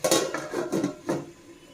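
A lid clatters onto a metal pot of cooking tomato chutney, giving a few close, bright metallic clanks and rattles over about two seconds, with no talking.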